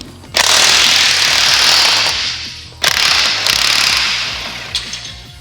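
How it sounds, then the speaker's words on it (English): A cordless electric impact wrench hammers on truck bolts in two loud, sustained rattling runs, each about two and a half seconds, close up with no talk. "Get an impact out here. I love my electric impact. No hose. So we'll see how good it is on these bolts."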